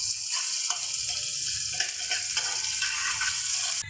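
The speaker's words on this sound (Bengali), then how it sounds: "মাছ ভাজা তেলের মধ্যে পেঁয়াজটা দিয়ে দিলাম, এখন পেঁয়াজটা ভেজে নিব" Onion frying in oil left over from frying tilapia fish, a steady bright sizzle with occasional stirring scrapes and clicks throughout, close and continuous without talk.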